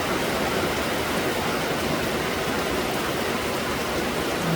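Rainwater pours steadily off a rural house roof during a monsoon downpour, a dense, even hiss of falling water and splashing that fills the whole stretch without a break.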